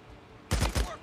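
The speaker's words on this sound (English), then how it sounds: "Where are those gunshots coming from?" Two sharp, loud gunshot blasts from the video game Days Gone fire in quick succession, breaking a quiet stretch, with a ringing tail after the second.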